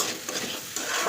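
Cauliflower and other vegetables dry-fry in a pan with a close, continuous crackling sizzle, punctuated by brief scraping and stirring bursts.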